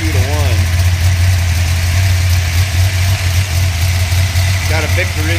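A Big Cam 406 cubic inch engine with ported heads and a Victor intake idles loud and close, a steady low rumble with a slight lope, while someone talks over it at the start and end.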